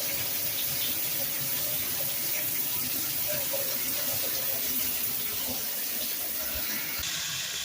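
Hot water running steadily from a tap into a sink, a continuous broadband rushing hiss at moderate level that holds unbroken for several seconds before shifting slightly near the end.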